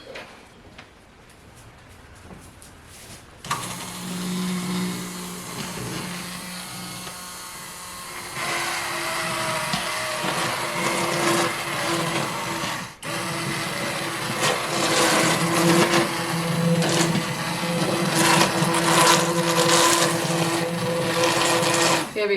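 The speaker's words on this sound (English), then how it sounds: "We're going to take it over here and immersion blend it." After a quiet start, an immersion blender whirs into simmered blueberries, a loud steady motor drone that shifts in pitch as it churns, cutting out briefly and restarting, with a voice speaking briefly in the background.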